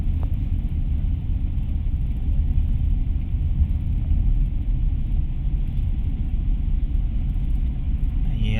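Road traffic in Manila, heard as a continuous low rumble of engines and tires, steady and fairly loud, with no clear separate events.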